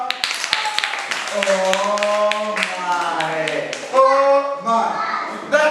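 Children in a classroom reading lesson clap in quick, rhythmic bursts close by, the sharp claps mixed with young voices chanting and an adult talking.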